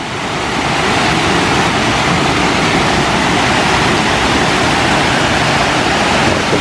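A waterfall, a cascade near the lakes of La Bresse in the Vosges, roars as a loud, steady, broadband rush of falling water that continues unbroken throughout with no voices.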